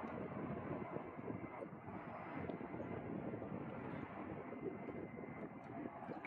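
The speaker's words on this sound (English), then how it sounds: "Drops the landing gear, brings it on in, or keeps going." An A-10 Thunderbolt II jet coming in to land at an air show, a faint, distant, steady engine roar that holds evenly throughout with no talking.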